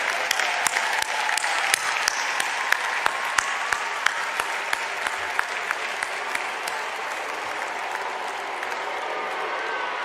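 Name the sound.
commencement audience applause for staff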